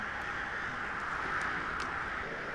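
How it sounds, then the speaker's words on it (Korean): A large winter flock of rooks calls from the sky during a massed evening flight, a dense continuous wash of overlapping caws with a few sharper calls standing out, steady and moderately distant. "떼까마귀들이 날아올라 환상적인 군무를 펼친다"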